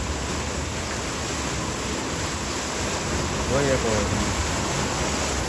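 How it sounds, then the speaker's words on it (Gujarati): Water flows loudly and continuously beside a well on a farm, a dense, rushing roar that stays steady throughout and swells slightly toward the end. "અહીંયા છે ને પાણીનો બહુ અવાજ આવે છે અને અહીંયા છે કૂવો"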